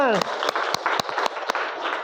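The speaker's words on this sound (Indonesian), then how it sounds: "Oke, tepuk tangan semuanya." Rapid, dense applause from a group of people fills the whole moment, with sharp individual claps standing out near the mic.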